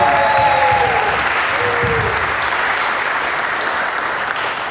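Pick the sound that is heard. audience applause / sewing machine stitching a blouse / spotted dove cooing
audience applause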